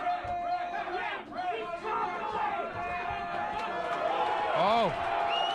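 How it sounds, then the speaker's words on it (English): Crowd noise at a boxing main event at Bloor Boxing Gym, a busy mix of shouts, chatter and whoops from spectators, steady and moderately loud throughout, with voices talking over it. "Listen to that crowd."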